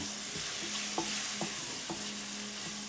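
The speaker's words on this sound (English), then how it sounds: "So I just mix everything together" A spoon scrapes and stirs shrimp tagine with spices and tomatoes in a sizzling pan. The faint, steady frying hiss is broken by regular knocks and scrapes about every half second, with no talking.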